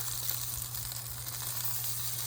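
Shishito peppers sizzle on a barbecue grill, a steady close crackling hiss that holds at an even level throughout, with no voices.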